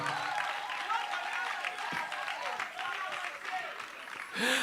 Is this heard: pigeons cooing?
no